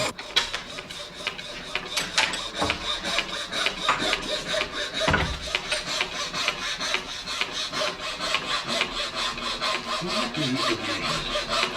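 A hand saw cuts through wood in steady back-and-forth rasping strokes, close and continuous, with a few knocks along the way.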